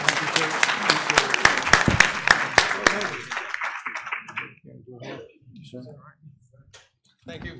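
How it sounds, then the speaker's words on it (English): An audience at a research showcase plenary session gives the panelists a burst of dense, close applause that fades after about three seconds, followed by someone speaking. "And once again, final round of applause."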